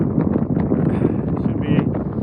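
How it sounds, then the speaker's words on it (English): Strong wind in remote interior Alaska buffets the microphone in a steady low roar throughout, with gusting surges and no clear voice coming through. "it's so windy"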